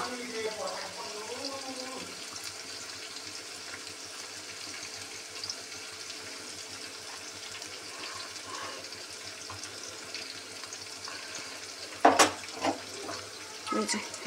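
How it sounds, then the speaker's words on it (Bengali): Water runs from a tap as a spice bowl is rinsed in a kitchen sink, a steady faint wash with a few louder splashes near the end. "একদম মশলার বাটিটা ধুয়ে নিলাম"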